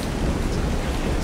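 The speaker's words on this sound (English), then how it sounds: "You're not supposed to be raining in here" Rain falling in the video game ARK, a loud, dense and steady wash of broadband noise with no talking.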